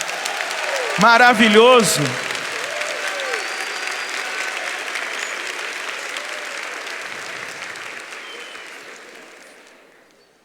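A church congregation applauds at a Catholic service, the clapping a loud, dense, sustained roar that slowly fades away over about ten seconds, with a voice briefly speaking near the start.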